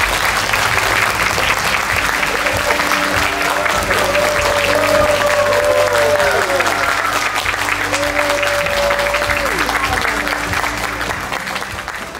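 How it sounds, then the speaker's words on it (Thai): Sustained, loud audience applause fills a gala dinner celebrating Seiko's 140th anniversary in Thailand, dense clapping from a large crowd under background music with sliding tones, continuing for over ten seconds. "ขอเสียงปรบมือให้ทุกคนหน้าเวทีด้วยครับ"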